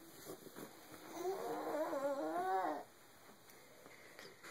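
A baby girl snores softly, one rising, gurgling breath of about two seconds, heard close and faint against a quiet room.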